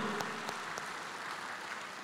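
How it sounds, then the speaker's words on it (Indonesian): Applause from a conference audience at a city government coordination meeting in Makassar, a steady dense patter of clapping held throughout at moderate, slightly distant level. "Tepuk tangan untuk beliau."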